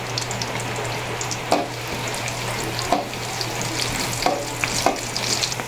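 Garlic frying in hot cooking oil in a home kitchen, a steady close-up sizzle with a few brief stirring clicks and spikes throughout, no voices.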